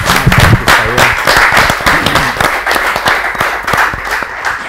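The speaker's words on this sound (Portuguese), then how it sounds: "Eu quero pedir uma salva de palmas pelas contribuições." A studio audience on a televised debate programme breaks into a brisk round of applause, many crisp overlapping claps, loud at first and easing slightly toward the end.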